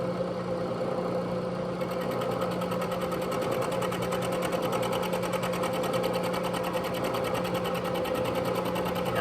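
A milling machine takes about 25 thousandths off a metal part during a Logan 6560 lathe compound repair. A steady, close motor whine carries fast, even rhythmic chatter throughout, with no one speaking.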